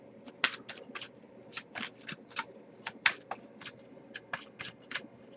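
A deck of tarot cards is shuffled in a quiet room, giving a series of quick crisp riffling bursts in an uneven rhythm, close and soft, with no talking.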